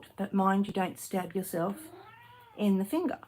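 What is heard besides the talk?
pet cat meowing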